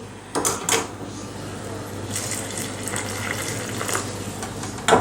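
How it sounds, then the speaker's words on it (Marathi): Water from a glass poured into a pan of Konkani chicken curry on the stove: a short splashy burst, then a steady wet pour under faint sizzling, ending in a brief final splash. "साधारण एक ग्लास एवढं मी यामध्ये पाणी घातलेलं आहे"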